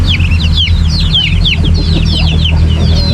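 A mother hen clucks among a flock of chickens and ducklings on a farm, a loud, continuous chorus of chirps and clucks close by, with no talking.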